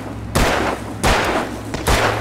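Three loud, sharp gunshots from a handgun in the video game Alan Wake, spaced evenly roughly three-quarters of a second apart, each ringing out briefly over a low background hum.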